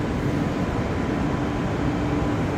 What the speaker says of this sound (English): Well, looks like a normal train.